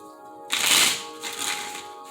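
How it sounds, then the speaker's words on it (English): A deck of tarot cards is riffled once in a short, crisp burst with a softer flutter after it, close and alone with no talk. "5 shuffles, baby."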